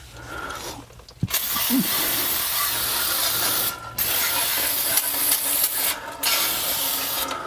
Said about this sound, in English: I'm going to go ahead and hit this whole thing with a brake cleaner